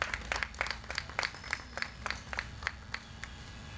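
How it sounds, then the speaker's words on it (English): Scattered applause from a small audience at a World Coconut Day event, with separate handclaps that thin out and trail off over a few seconds against background room noise. "asking that you please give the convener of this event a round of applause"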